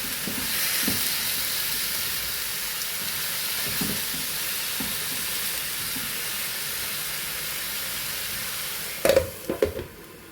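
Chicken frying in a pan with turmeric, giving a steady hiss and sizzle close by with a few clatters of stirring near the end and no talk.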